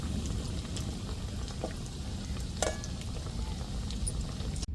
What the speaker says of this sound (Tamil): இப்போ எல்லாத்தையும் எண்ணெயில் போட்டு போட்டு மின்னையும் பின்னையும் பிரட்டி பிரட்டி எடுத்தாச்சு